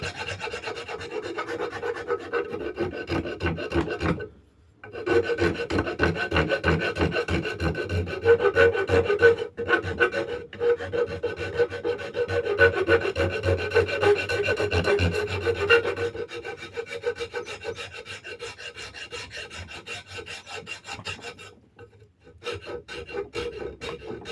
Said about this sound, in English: switch back and forth between the Shinto rasp and the small 4-in-hand